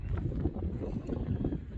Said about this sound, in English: it is freaking stupid windy still, and it's been windy all night